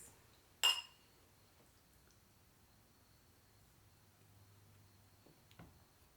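Wine glasses of a red blend clink once sharply in a toast, a single bright close chime over a quiet room, followed by faint soft knocks.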